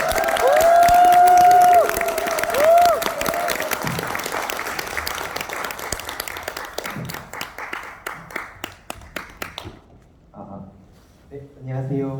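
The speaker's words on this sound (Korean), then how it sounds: "우리 한희동님을 위해서 큰 환호와 박수 부탁드리겠습니다" An audience at a Korean invited lecture cheers and applauds to welcome the speaker, with a loud burst of clapping and whoops that thins into scattered claps before fading to quiet, then a voice begins speaking.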